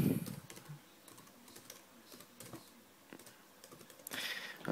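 Keys tapped on a computer keyboard in a light, irregular patter while typing a web address, close and fairly soft, with a louder rustle near the end.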